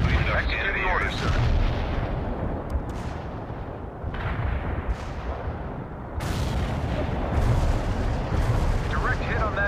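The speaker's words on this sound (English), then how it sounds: "Medium artillery ready for action. Firing Willy P towards the area." Medium artillery in the video game World in Conflict fires repeated heavy booms with rumbling tails, loud and close, amid battlefield gunfire and brief radio voices.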